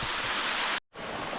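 A waterfall in a canyon roars as a steady, loud broadband rush, heard close. The roar cuts out briefly midway and then resumes.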